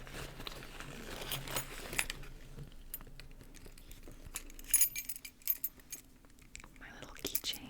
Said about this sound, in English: Let me just take out my keys.